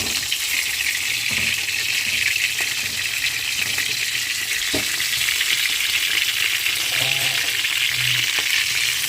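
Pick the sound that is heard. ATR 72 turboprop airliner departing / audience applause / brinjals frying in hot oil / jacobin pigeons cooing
brinjals frying in hot oil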